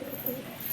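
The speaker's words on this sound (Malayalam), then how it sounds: "ഇപ്പം എല്ലാ പ്രാവും ഇവിടെ എത്തിയിട്ടുണ്ട്." Pigeons in a loft give a soft, low coo, brief and faint against a quiet background.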